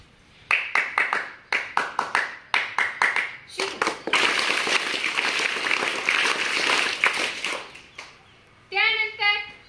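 Children clap along in a classroom clapping game, first in quick separate bursts, then in a long run of dense group applause, closing with a short patter of claps and a voice calling out.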